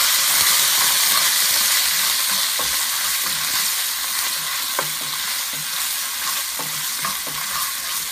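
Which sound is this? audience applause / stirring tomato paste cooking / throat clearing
stirring tomato paste cooking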